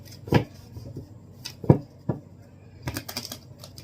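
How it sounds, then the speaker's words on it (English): Tarot cards are shuffled, giving a few sharp, separate riffs and snaps with short quiet gaps between them, then a quick flurry of card flutters near the end. The sounds are close and there is no talking. "2 more shuffles and we are done."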